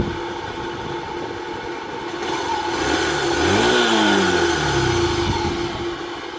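A CG motorcycle with a faulty tachometer, its engine idling steadily, then revving up and back down in one throttle blip, close and fairly loud with no voices.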